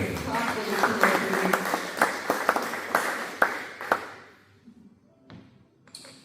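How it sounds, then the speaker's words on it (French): A church congregation claps and cheers in a reverberant hall, with sharp hand claps and crowd voices for about four seconds before the applause fades out. "Acclame très fort pour le roi."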